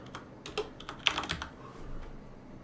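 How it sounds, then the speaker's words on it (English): Typing on a computer keyboard: a short run of quick key clicks with one denser cluster, close and clear, no voices. "And let's type in hardware asset."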